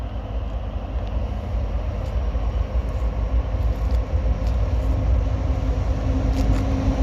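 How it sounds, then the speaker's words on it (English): A Kansas City Southern train rolls past at a grade crossing, a steady low rumble of wheels and engine that grows slightly heavier over several seconds, with no voices. "I've been down here since 9 o'clock and it's just now 5 o'clock, seeing my first train."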